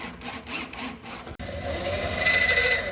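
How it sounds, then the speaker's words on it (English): A drill bores into the muzzle end of a Winchester 1892 rifle barrel, lubricated with cutting fluid and throwing chips, a close grinding rasp with a brief cut-out midway before a steadier, brighter whine. "So we're drilling here from the muzzle end of the gun using plenty of cutting fluid as a lubricant."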